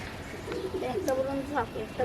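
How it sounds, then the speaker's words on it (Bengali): Pigeons coo softly nearby in low, rolling calls, with voices talking in the background. "কবুতরগুলো আটকাও"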